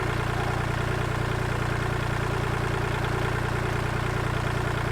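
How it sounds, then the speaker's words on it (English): A small tractor engine runs steadily at a near-constant idle, a continuous low droning rumble with no pauses, close by and alone, with no voices heard. "little tractor's handling it just fine."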